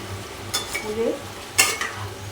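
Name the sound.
stirring and mixing rice in a cooking pot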